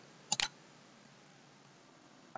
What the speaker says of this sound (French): Il suffit juste de cliquer sur soit la touche entrée de votre clavier